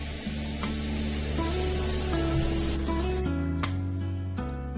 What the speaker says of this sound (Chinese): 然后开中火煎3分钟左右。